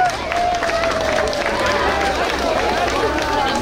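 A crowd applauds at a science expo at the Great Falls, a steady wash of clapping and cheering with a thin whistle-like tone running through it.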